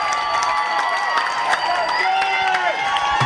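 A crowd in the Gateway Arena cheers and shouts at a volleyball match as the score is tied, a sustained roar under a commentator's voice.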